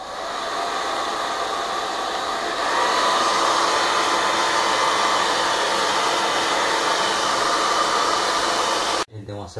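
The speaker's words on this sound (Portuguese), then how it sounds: "Acelerada nele na secagem com o secador de cabelo." A hair dryer blows steadily on freshly applied colored wall putty to dry it, a loud continuous whooshing hum that rises slightly partway through and then cuts off abruptly near the end.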